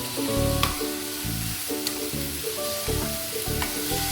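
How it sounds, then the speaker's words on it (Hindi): Carrots and peas cook in a pan, a close sizzle broken by repeated clinks and scrapes of a utensil stirring at an uneven rhythm, with no voices. "2 से 3 मिनट तक हम इनको पकाएंगे"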